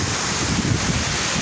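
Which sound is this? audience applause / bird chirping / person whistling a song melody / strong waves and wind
strong waves and wind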